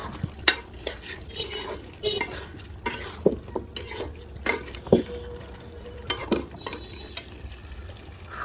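A utensil scrapes and clanks repeatedly against a pan of meat being browned for biryani, in irregular strokes over a soft background sizzle, close and fairly loud.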